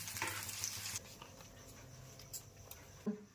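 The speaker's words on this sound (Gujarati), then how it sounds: "આપણે બધા મરચાંને ચણાના લોટથી કોટ કરી અને તળી લેશું" Chillies stuffed and coated in gram-flour batter fry in hot oil, a steady close sizzle with light stirring clatter and a few brief knocks, no talking.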